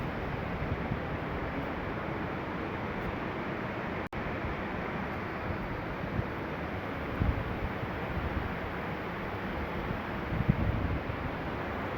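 Rushing water pouring below the Rochdale bridge, a steady, loud hiss and roar of flowing water that continues throughout, with a brief handling thump partway through and no talk.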